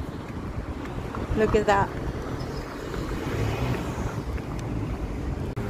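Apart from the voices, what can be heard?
wind blowing outdoors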